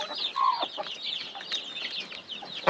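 Hens and roosters in a hobby coop in Taşköprü, Kastamonu, cluck and call in a close, busy stream of short bursts, with no talk over them.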